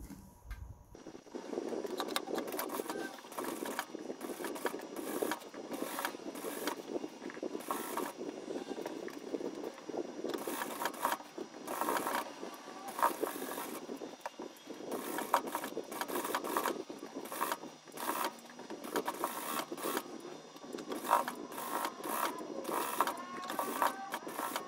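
Sewing machine topstitching the edge of a raglan-sleeve wrap dress, running in steady, fairly quiet mechanical bursts with brief pauses throughout, with no talking.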